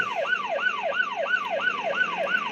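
A police car siren in a video game wails in quick, evenly repeating up-and-down sweeps, about eight cycles, clear and alone with no voices.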